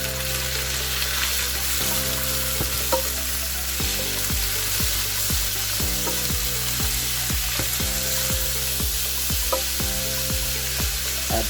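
Pork added to a hot pan during a Filipino pansit bihon guisado noodle stir-fry sizzles in a steady hiss, with repeated low knocks and scrapes of a utensil against the pan, and no talk.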